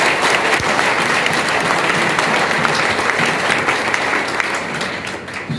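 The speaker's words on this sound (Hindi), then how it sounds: "एक बार जोरदार ताली।" A crowd claps at a live business leadership event in Siwan, Bihar, a loud, dense, sustained burst of applause that fades slightly at the end, without talk.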